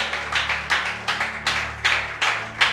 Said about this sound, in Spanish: no le das un aplauso al Señor, hermano